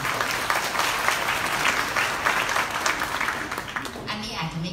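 An audience at a beauty and health innovation presentation claps in a dense, sustained round of applause that thins out toward the end as a voice begins.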